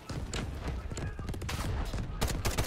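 Rapid gunfire in a multiplayer video game, a dense, loud burst of overlapping shots that keeps going throughout with a few sharper cracks near the end.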